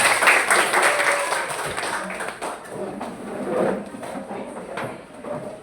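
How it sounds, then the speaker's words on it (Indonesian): A group applauds during a classroom discussion session, bursts of clapping that swell and fade in waves, with some voices mixed in. "tepuk tangan untuk kita semua"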